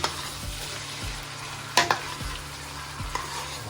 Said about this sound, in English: so now I'm gonna stir.